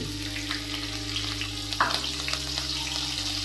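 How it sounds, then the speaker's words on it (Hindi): Green chillies fry in hot oil in a kadai with a constant close sizzle and a brief louder spit midway, and no one talks. "तेल को गर्म होने देंगे एक बार सबसे पहले तीन हरी मिर्च डाल देंगे"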